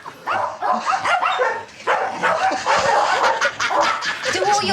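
Several dogs bark and yap excitedly as a visitor arrives at a household, a dense, continuous burst of overlapping yips and barks with some whimpering, loud and close throughout.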